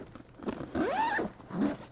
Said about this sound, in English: Zip that back up.